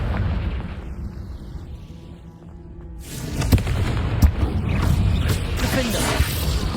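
In the Hogwarts Legacy video game, a Confringo blasting spell lands amid combat: a loud burst and rumbling impacts with sharp pops follow a quieter stretch, with battle noise continuing underneath.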